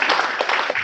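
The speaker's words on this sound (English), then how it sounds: "Give them a round of applause" Brief burst of audience applause for volunteers at a community night event, a dense wash of clapping hands filling the room with no talk.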